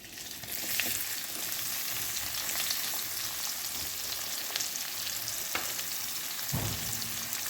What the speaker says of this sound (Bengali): মাছগুলো ভেজে তুলে নিয়েছি এবার এই তেলেই দিয়ে দেবো পেঁয়াজ